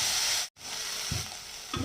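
Onion, ginger, garlic and green chili sizzling in hot oil, a close hiss that cuts out for a moment, then resumes with scattered spatula taps and scrapes while the mix is tossed, no speech.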